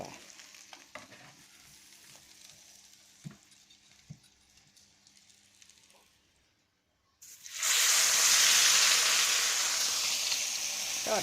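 Fish frying in a pan with very little oil, three at a time, bursts into a loud, dense sizzle partway through after a quieter stretch of faint clatter and scraping.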